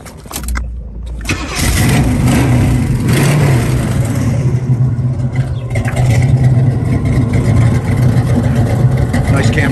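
A muscle car's cammed V8 fires up and settles into a loud, lumpy rumble close by, holding a steady, heavy idle with slight surges for several seconds.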